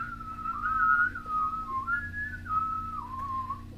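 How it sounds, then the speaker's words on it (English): A person whistles a wandering melodic tune, steady and fairly close, with a low constant hum underneath and no talking. "Whistling is such a thing."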